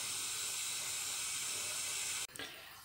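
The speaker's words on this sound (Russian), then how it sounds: "И поставила себе чайник. Чайку попью." A kettle heats water for tea on a home stove and gives off a loud, steady broadband hiss of steam for several seconds. The hiss cuts off abruptly with a click, leaving a fainter hiss behind.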